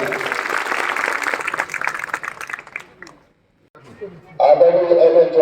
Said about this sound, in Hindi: जोरदार तालियां एक बार बजाई जाए।